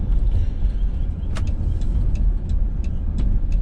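A 2015 Chrysler Town and Country minivan on the road, with a steady loud low rumble of engine and road noise and a few faint ticking clicks over it.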